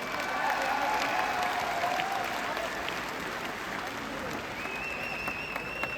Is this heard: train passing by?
no